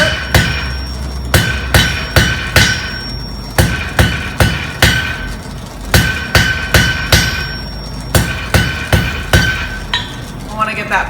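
A hand hammer forges hot metal to draw out a point, striking steadily and loudly, with clear ringing blows at a quick, even rhythm and occasional short pauses between groups of strikes.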